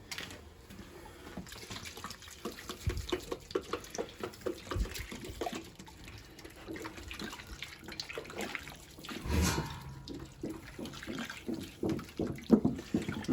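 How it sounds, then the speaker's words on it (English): A gallon of milk poured into a pig stew, sloshing and gurgling liquid splashing close by with uneven bursts and a steady pour rising and falling, no voices. "let me get our last gallon of milk and throw it in there"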